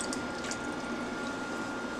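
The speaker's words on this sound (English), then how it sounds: "So we're going to pour our evaporated milk in there." Evaporated milk pours into a pot on a stovetop during mac and cheese preparation, a steady soft liquid splash and trickle heard close by throughout, with no talking.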